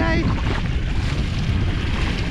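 A fishing kayak, an Old Town Sportsman 120 Autopilot with a Minn Kota motor in front and a Torqeedo at the back, moves through waves, giving a loud steady rush of water and wind noise.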